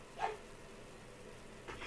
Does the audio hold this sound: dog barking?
yes